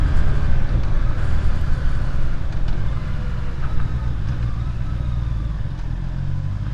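Honda CBR650R (2024) motorcycle engine running steadily while riding, a continuous close, loud drone with wind and road roar and slight shifts in pitch, no voices.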